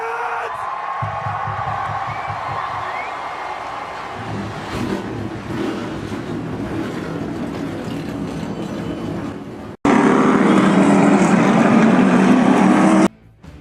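NASCAR stock car engines fire up and rev at the start of a Cup Series race, a dense continuous roar that suddenly jumps louder near the end before cutting off.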